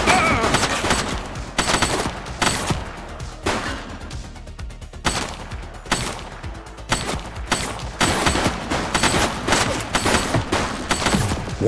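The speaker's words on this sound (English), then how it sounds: "He's shooting!" Rapid gunfire in the police video game The Precinct: loud bursts of overlapping shots crackle in quick, uneven volleys, almost without a pause, with one shooter firing back.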